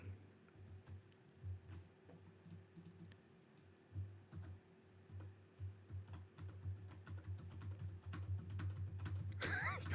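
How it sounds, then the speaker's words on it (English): Fast typing on a computer keyboard rattles in quick, irregular bursts of light clicks, close and quiet over a low steady hum, growing busier toward the end. "See me just going ham on the keyboard."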